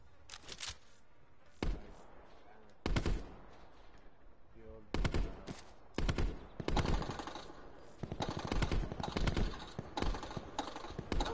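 Gunfire rings out in a shooter video game, including a sniper shot, as several sharp cracks and bursts land at irregular intervals, mixed with rapid clicking and background game noise.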